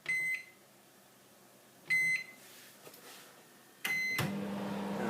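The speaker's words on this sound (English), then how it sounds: "place it inside the microwave. There we go. Let's set it on full power." A household microwave oven set to full power beeps in short bursts, a pause between each, then starts up with a steady low hum after the final beep, with no voices.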